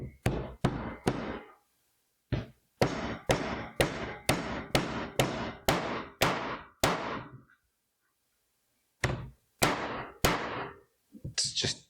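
A hammer drives nails into a wooden board that is being assembled, with a rapid series of sharp, loud, close blows, a brief pause, then several more strikes.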